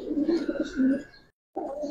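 Pigeons at a Bangladeshi bird seller's, including a red khaki pair, giving low, rolling coos in two swells, then a brief pause before the cooing resumes close by.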